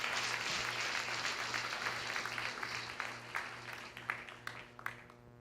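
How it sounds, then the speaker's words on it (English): Audience at a police-community relations awards ceremony applauds the 2022 recipients: a moderately distant, steady round of clapping that thins out into a few individual louder claps near the end. "Can we have a round of applause for all of our 2022 recipients?"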